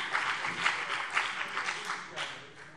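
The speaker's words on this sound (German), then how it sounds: "Applaus" Applause rises from members in a German parliamentary plenary session, a brief wash of clapping that swells and fades over a few seconds.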